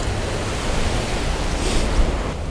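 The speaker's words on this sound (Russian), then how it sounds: "И только волны океанского прибоя." Ocean surf rolls onto an empty beach on Tierra del Fuego, a steady, loud broadband roar of breaking waves with a slight swell midway, heard alone with no voices.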